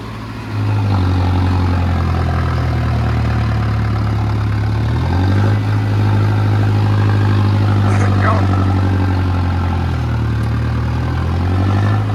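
A tractor engine runs in a farm field with a loud, steady low drone and a slight dip in pitch midway, while someone talks over it.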